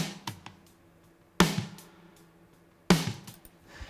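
Mixed snare drum combining a gated attack track and a full-body track, three hits with sharp cracks and ringing tails, the last two loud and evenly spaced, heard alone.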